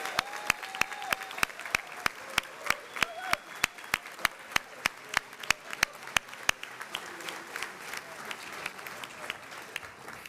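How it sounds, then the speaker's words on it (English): Audience applause at a symposium, with sparse individual claps ringing out in a steady rhythm over a quiet room, beginning fuller and then thinning toward the end. "If you would give our team a round of applause for their wonderful work."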